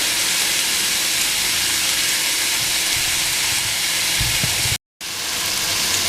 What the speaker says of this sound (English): And then that's going to pan sear until it's done.